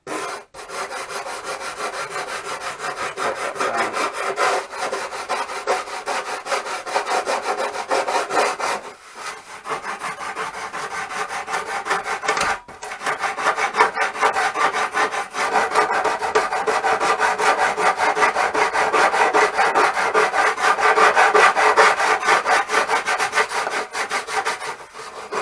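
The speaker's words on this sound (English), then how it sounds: "There'll be more sanding on these edges" Steady, continuous rasping of sandpaper on the wooden edges of an RC plane wing kit, close up, with a few brief pauses, no voices.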